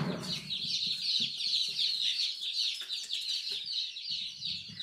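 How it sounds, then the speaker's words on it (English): Chickens, both laying hens and meat birds, cluck and chatter continuously nearby in a busy, overlapping flock, with soft rustling and shuffling underneath. "Here are the meat birds."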